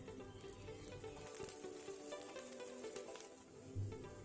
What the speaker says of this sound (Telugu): తర్వాత ఇందులో కొద్దిగా కరివేపాకు వేసుకోవాలండి